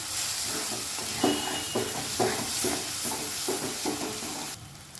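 Lote fish cooked with eggplant is stirred in a pan over a medium gas flame, rhythmic scraping strokes roughly every half second over a constant close sizzle that quiets at the very end.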